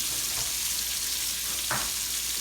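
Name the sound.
half a large onion frying with Cavender Greek seasoning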